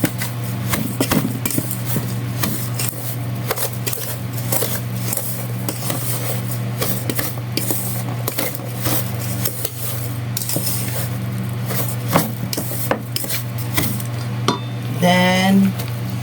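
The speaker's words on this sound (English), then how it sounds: "Mix it well." Macaroon ingredients being mixed in a bowl, with a utensil clinking and scraping against the sides in quick, repeated strokes over a steady low hum, fairly close and continuous.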